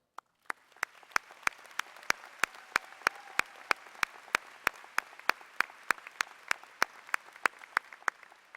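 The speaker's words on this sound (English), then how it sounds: "join me in a round of applause" An audience at a high school graduation applauds the faculty, heard as a long run of sharp, evenly spaced claps over a faint crowd murmur.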